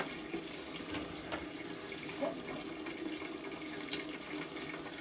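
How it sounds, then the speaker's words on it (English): Tap water runs steadily into a sink as a plastic miniature stripped of paint with Dettol is rinsed, a soft continuous splashing with faint scrubbing movements, fairly quiet and without talk. "Make sure nothing's left on there, and then rinse it in the water."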